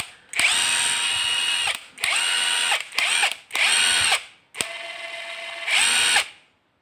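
A JLD 48S impact wrench runs in its 3000 RPM mode, close and loud, in six whirring bursts of one to two seconds each, separated by brief pauses, with the last burst winding down to silence.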